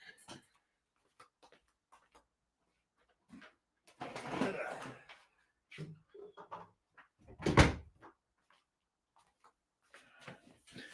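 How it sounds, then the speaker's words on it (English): A room door is swung shut indoors, giving a single solid thud that stands out between faint, sparse knocks and small household sounds in an otherwise quiet space. "I'm going to shut my door here."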